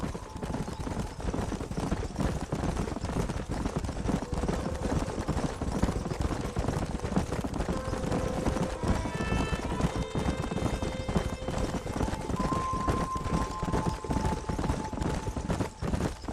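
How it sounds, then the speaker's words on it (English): Horses gallop in the Western video game Red Dead Redemption, hooves clip-clopping in a steady rapid rhythm under a swelling orchestral score, with an occasional whinny. "There's the horses!"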